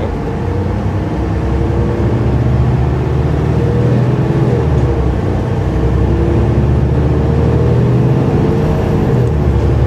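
Riding aboard a Mercedes-Benz O530 Citaro bus in SMRT service in Singapore, the engine keeps up a loud, continuous drone with shifting tones and interior rattle, with no one speaking.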